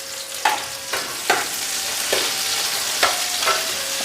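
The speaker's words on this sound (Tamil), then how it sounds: "உள்ளி நல்லா பொரிக்கணும். வெங்காயம் நல்லா பொரிஞ்சால் நல்லா இருக்குது." Garlic and onions frying in a pan, a loud continuous sizzle punctuated by regular scraping stirs about every half second, close and unaccompanied by voices.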